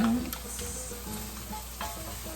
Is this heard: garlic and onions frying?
yes